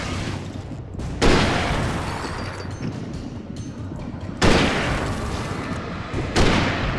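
Gunshots in the Alan Wake video game: three loud, booming shots spaced a few seconds apart, each with a sharp onset and a lingering echoing tail.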